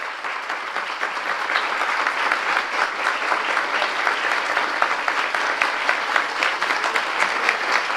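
An audience claps together at an ISKCON lecture, dense sustained applause from many hands filling the room at an even level throughout, with no break.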